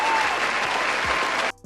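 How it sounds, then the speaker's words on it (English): A crowd applauds a local politician on her 75th birthday, dense steady clapping that runs loud and even before cutting off abruptly near the end. "give her a round of applause because she recently had a birthday"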